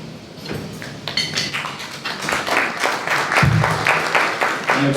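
Applause from the audience at a city commission candidate forum, a steady crackle of many hands that swells slightly over five seconds, with a voice briefly audible beneath.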